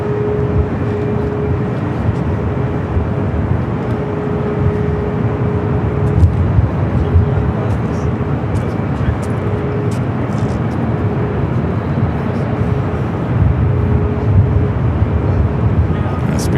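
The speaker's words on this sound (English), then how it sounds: "A350-900 coming up from Rome, arriving there on the south side" Airbus A350-900 from Rome arriving on the south side of LAX, a continuous low jet rumble with a faint steady hum, heard at a distance under ongoing talk.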